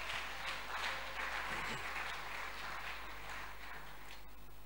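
A church congregation applauding and cheering for Abigail, a mother, with steady broadband clapping held throughout at moderate distance beneath a faint electrical hum.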